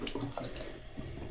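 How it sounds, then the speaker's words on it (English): Household tap turned back on after a plumbing repair, water running steadily with a gurgling, splashing rush, close by and continuous. "We can turn the water back on now and test everything."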